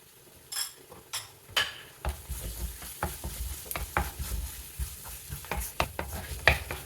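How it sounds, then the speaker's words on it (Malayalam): Ginger, garlic, green chillies and curry leaves stir-fry in hot oil: a continuous sizzle punctuated by repeated rhythmic scrapes and clinks of a spoon against the pan, close and fairly loud. "നല്ലോണം ഇളക്കി തന്നെ മൂപ്പിച്ചെടുക്കണം ഇഞ്ചി വെളുത്തുള്ളി പച്ചമുളക് വേപ്പില ഒക്കെ നന്നായിട്ട് മൂത്തിട്ടുണ്ട്"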